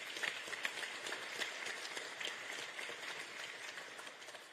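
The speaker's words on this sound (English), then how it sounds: "I saw the Italian embassy clapping even harder" Audience clapping for FIFA President Gianni Infantino at a Club World Cup trophy event in Washington, D.C.; a steady, dense wash of many hands applauding from a crowd, moderately loud and continuous throughout without speech.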